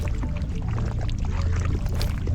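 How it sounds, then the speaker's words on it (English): Footsteps sloshing through water in the VR game Into the Radius 2, continuous close splashing and churning with no talk. "Just from walking in the water, it doesn't damage you, trust me."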